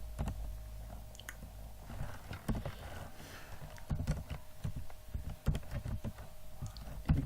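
Typing on a computer keyboard while writing code, irregular clusters of soft clicks and key taps close by in a quiet room.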